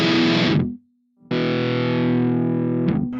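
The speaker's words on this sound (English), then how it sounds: "Looks like it's like an EQ and a distortion pedal" An 8-string guitar played through an EQ and distortion pedal plugin gives loud, heavily distorted chugging chords, one burst, a brief silence, then a long sustained ringing chord ending in another quick strike.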